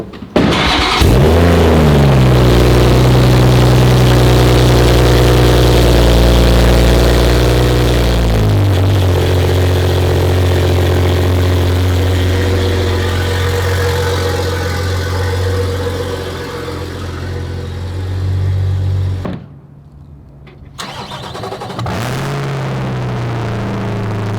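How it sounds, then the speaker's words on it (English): A widebody MKV Supra's engine starts with a loud burst, then its new exhaust idles with a deep, steady rumble, briefly cutting out near the end before resuming. "I'll show you what the new exhaust on the Supra sounds like"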